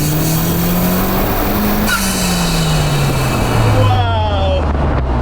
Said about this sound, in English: You hear the air sucking in. The turbo's spinning and it boosts.